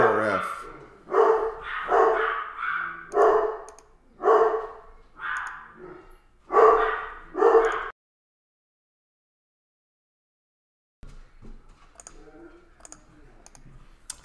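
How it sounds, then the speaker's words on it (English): Dogs barking in the background of a home setting, a run of about nine loud, evenly spaced barks, then silence and faint distant sounds. "Sorry about the dogs, everybody."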